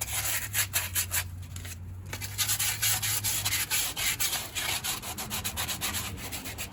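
Sandpaper rubs over the wheel hub of a 2003 Chevy Silverado 2WD in a steady, close scraping rasp that continues with brief pauses between strokes.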